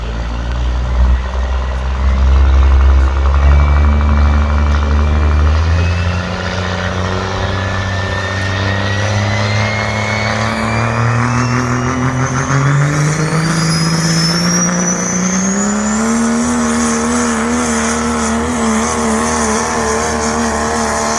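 A heavy pulling truck with a 5.2 engine roars loudly under load at a truck pull, its pitch climbing gradually through a long, strained pull with a high whine rising above.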